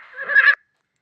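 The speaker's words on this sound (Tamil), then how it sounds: "குதிரை கனைக்கும்," A horse gives one brief, close whinny lasting about half a second, then falls silent.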